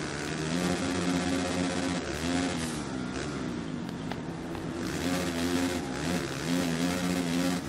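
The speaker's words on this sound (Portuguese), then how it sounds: "Eu acho que eu tô com a moto do Rubinho Barrichello, não é possível." A motocross motorcycle engine in the video game MXGP3 on PS4 drones loudly and continuously, its revs rising and falling while racing, with no pause across the stretch.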